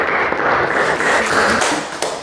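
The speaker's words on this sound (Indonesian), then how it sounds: "Tepuk tangan dulu buat." A classroom full of students claps together, a dense, steady patter of hands that stays loud and close for a couple of seconds, then thins slightly at the end.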